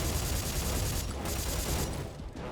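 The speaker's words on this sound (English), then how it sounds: "And I'm going to use the grenade launcher on them." Grenade launcher fire in the sci-fi horror shooter Dead Space 3, a loud, unbroken barrage of blasts and gunfire-like bursts filling the moment, with no voices over it.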